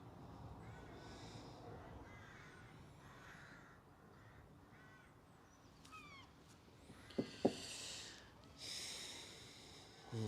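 Several crow-like caws sound faintly outdoors in the United Kingdom, scattered among nearby breathing and snort-like noises, with a couple of sharper knocks near the middle.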